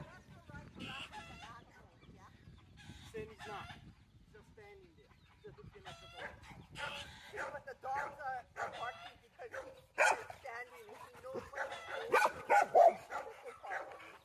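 A dog barks in short, scattered bursts among clucking chickens outdoors, mostly under an agitated argument between people.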